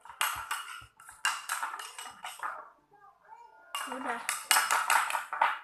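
A spoon scrapes and clinks against a bowl while stirring slime made with clear glue and detergent, the clattering coming in busy bursts with a short quiet gap, and a voice speaks briefly over it.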